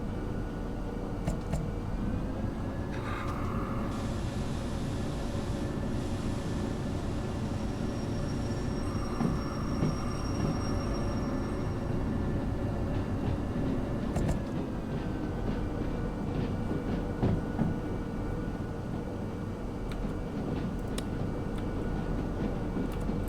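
A heavy locomotive in the train game Derail Valley rumbles along with a steady low engine drone and rolling rail noise, joined by occasional higher whines and hisses.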